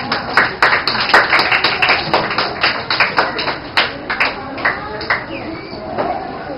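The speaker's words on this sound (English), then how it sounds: "Let's give a round of applause to each and every one." A school debate audience of children applauds, a dense stretch of steady clapping that carries on throughout, loud and close, with some voices mixed in.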